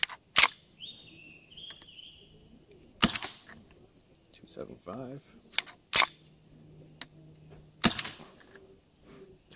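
A Metadyne Thumper gun is fired during testing, sharp isolated shots spaced a second or two apart with quiet gaps between, while a person talks and mechanical clicks sound in between.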